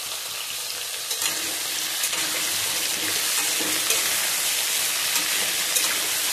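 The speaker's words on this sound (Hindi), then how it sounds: "अब सब्जी दे देते हैं इसमें सारा" Vegetables hit hot oil tempered with panch phoron, dried chillies and hing, giving a loud, steady, close-up crackling sizzle that continues without pause, with no talking.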